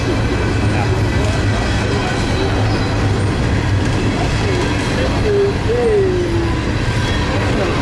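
A freight train rolls through a rail junction in Fullerton, a loud continuous rumble of wheels with a wheel squeal rising near the end, close by.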